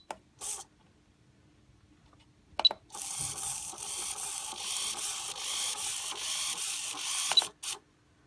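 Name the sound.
RC servo moving, tested with CellMeter 8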